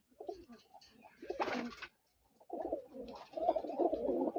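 Iraqi lotan pigeons coo softly at close range in Australia, with low, rolling murmurs in two stretches separated by a short quiet gap.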